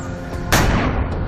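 A single sharp gunshot cracks loudly, signalling commandos to jump into water. It rings over a constant rumbling background and fades gradually.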